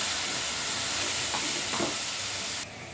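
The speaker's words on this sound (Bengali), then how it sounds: "এবার পাত্রটা ধুয়ে জলটা দিয়ে দিচ্ছি এতে।" Water poured into a hot pan of chilli and kasuri methi paste gives a steady, close sizzling hiss that swells briefly mid-way and then drops abruptly near the end.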